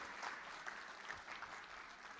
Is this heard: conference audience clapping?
yes